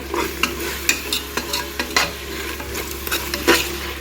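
A ground paste of mint, coriander and chili sautés in a pan, bubbling and sizzling beneath repeated metal spatula scrapes and clinks against the pan, close up and with no talking.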